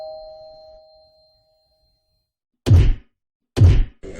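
A notification bell chime rings out clearly and fades slowly into silence, followed by two sharp, heavy thumps and the start of a third.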